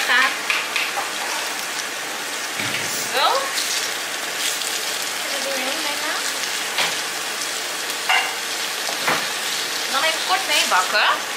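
Pieces of salt cod frying in a hot pan for croquettes, a continuous crackling sizzle with occasional stirring and scraping noises, close up, and a voice speaking now and then over it.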